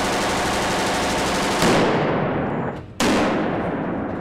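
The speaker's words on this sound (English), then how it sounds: "just to make it really seem like Batman's being shot at from distant perspectives" Recorded gunfire for the Batman: Arkham City video game, captured from distant perspectives: a loud, dense, continuous rattle of automatic fire that briefly drops away near the end before surging back at full intensity.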